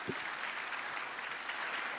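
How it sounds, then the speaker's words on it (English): Audience applause at the Jerusalem Post Annual Conference in New York, a dense, steady wash of many hands clapping at even loudness for the whole stretch, with no voices over it. "Let's give a big round of applause"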